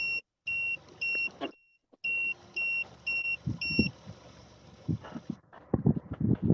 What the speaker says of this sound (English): We've heard a lot of shallow water alarms this morning.